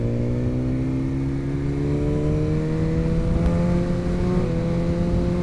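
A road vehicle's engine revs steadily and loud, its droning pitch climbing and wavering slightly as it pulls along a straight road, with no talking over it.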